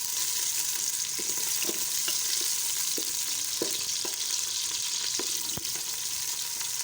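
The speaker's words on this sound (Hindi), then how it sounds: "घी गर्म हो चुका है, अब इसमें डाल देती हूँ प्याज दो दरमियानी साइज के कटे में।" Two medium chopped onions hit about half a cup of hot ghee for daal chawal, giving a continuous close sizzle with occasional stirring clicks and pops throughout, no talking.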